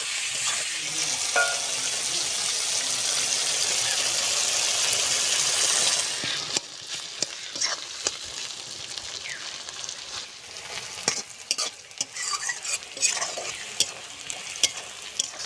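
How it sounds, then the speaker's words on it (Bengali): Rohu fish fries with turmeric, eggplant, chilli and onion, giving a loud, hissing sizzle for several seconds, then clattering stirs and softer crackling as the pan is worked up close. "হলুদ গুঁড়ো, বেগুন, মাছের তেল, ঝাল, পেঁয়াজ দিয়ে এইভাবে আমি ভাজতে থাকবো।"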